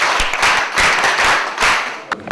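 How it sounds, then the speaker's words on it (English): A short burst of clapping from a group of schoolchildren for a student, loud and close, swelling in a few waves before tapering off. "Clap for Matilda"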